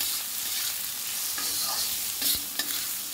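Turmeric and asafoetida being stirred in a hot pan for an amla, garlic, green chilli and ginger pickle, a soft continuous sizzle with a couple of brief utensil clinks near the end.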